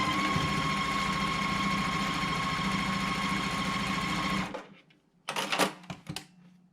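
A sewing machine runs in a fast, even whir while stitching Dresden blade quilt blocks, going for about four seconds before stopping, followed by a few brief handling clicks and rustles.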